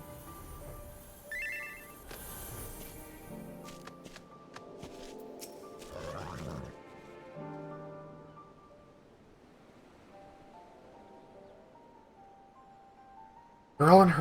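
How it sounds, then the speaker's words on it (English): Chiming notification tones from a chat client signalling friends coming online ring out over soft game music during a Final Fantasy XIV session, several short melodic pings scattered across the passage, with a louder burst at the very end. "Sorry about the notification sounds when friends just came online."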